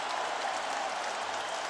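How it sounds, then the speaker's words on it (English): An arena crowd at a UFC Fight Night bout, Till vs Dos Anjos, on its feet cheering and applauding in a dense, steady roar that fills the whole moment without a break. "This crowd is on its feet."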